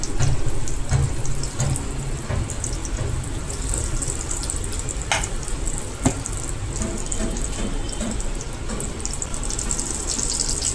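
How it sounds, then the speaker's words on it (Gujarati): A continuous, dense sizzle of bhakharwadi deep frying in oil over low heat, steady and fairly loud, with occasional sharp crackles and pops. "ધીમા ગેસ ઉપર તળશું તો જ ભાખરવડી ઉપરથી ક્રિસ્પી થશે"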